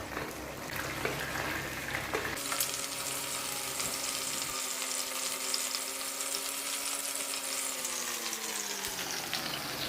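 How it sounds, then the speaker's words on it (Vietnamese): Meat patties wrapped in betel leaves fry in a pan with a steady, close sizzle and crackle that runs continuously throughout, with no voices. "Chúng ta cứ lần lượt chiên như vậy cho đến khi mình hết chả nha các bạn."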